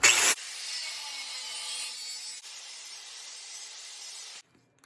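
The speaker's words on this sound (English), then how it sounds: "I'm just gonna use a cutoff wheel" An abrasive cutoff wheel slices through a 4-inch Diamond Eye steel exhaust pipe on a Dodge Ram 2500, a steady loud grinding hiss that holds for about four seconds and then cuts off.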